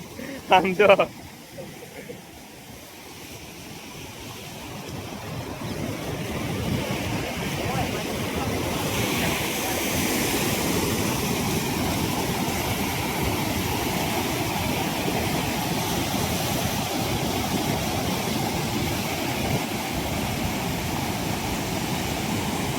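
Heavy water rushes and roars as the Machhu-2 dam at Morbi overflows, a steady, loud wash of noise after a few brief shouts at the start.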